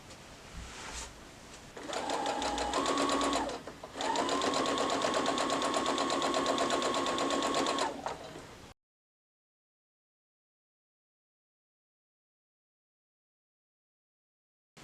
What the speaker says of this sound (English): when you stitch them into pairs, it's nice to have this side up so you can try to hit the needle right there and get a nice good point